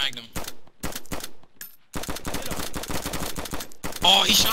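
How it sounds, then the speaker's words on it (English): Gunfire in the video game DayZ, a burst of rapid shots cracking loudly in quick succession, with a louder flurry near the end and no talk over it. "he shot at me"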